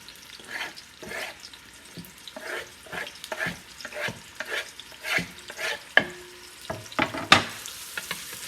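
Onion and hot pepper for vegan collard greens frying in a pan, with a crackling sizzle and a series of irregular scraping stirs, close and moderately loud, plus a few sharper clinks toward the end.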